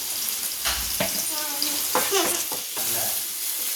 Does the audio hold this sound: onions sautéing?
yes